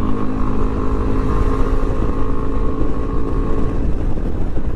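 A Sym Cruisym 300 scooter accelerates on an open-road test ride, its engine note climbing loud and close under steady wind rush, with no talk over it.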